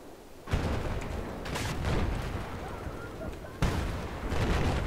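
Battlefield 4 combat noise: dense rolling gunfire and booming explosions from a war zone crowded with tanks and soldiers, loud and continuous, with sharp blasts near the start and again later.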